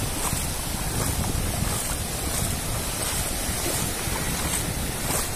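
Ocean waves roll in at Praia Grande beach near Canto do Forte on the São Paulo coast, a continuous close surf roar mixed with gusty wind buffeting the microphone.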